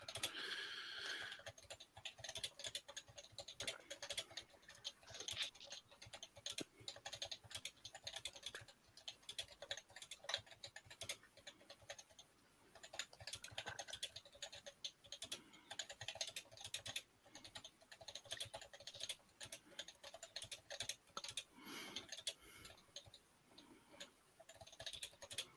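Steady, rapid typing on a computer keyboard during a typing speed test, a continuous close patter of key clicks with brief pauses, heard alone with no talk.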